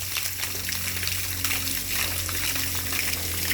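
Water pours steadily into a tank to refill and oxygenate it, a continuous close gushing rush with a low hum underneath and no break for the whole stretch.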